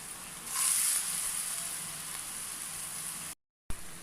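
Bottle gourd garelu, savory fritters, fry in hot oil with a steady, dense sizzle that swells after the first half second and holds, then cuts out briefly near the end.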